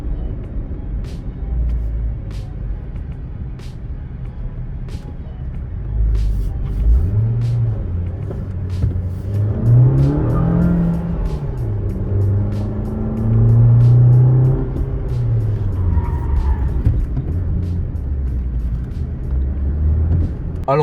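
A Suzuki Swift 1.2 small car engine revs up and accelerates, its pitch climbing and rising over a steady, loud rumble from inside the vehicle.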